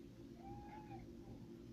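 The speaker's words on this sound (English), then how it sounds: "Sorry, our cat's in here." A pet cat meows once indoors, a soft, rising-and-falling cry heard faintly over a low background hum, with no one speaking.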